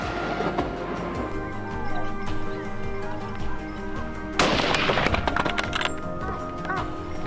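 Gunfire aimed at a wild boar on a mountainside, a burst of loud close shots with sharp cracks, the heaviest volley near the end, over outdoor background sound and some voices.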